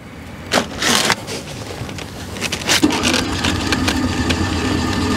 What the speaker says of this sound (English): There's the generator running.